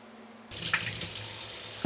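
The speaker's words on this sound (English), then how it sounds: "I have to wash the sponges, the triangle ones." A tap suddenly opens and water gushes into a sink for washing triangle makeup sponges, a steady close splashing stream with no voices.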